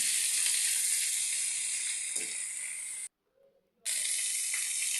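Loud, steady sizzling of cucumber and green chilies sautéing in a pan for a light fish curry, broken by a brief silent gap before the frying hiss resumes at full strength.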